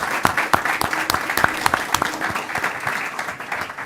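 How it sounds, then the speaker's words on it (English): Applause from the audience at a county board of education meeting, a loud burst of many hands clapping with sharp individual claps standing out, steady throughout and heard alone. "Let's have some applause"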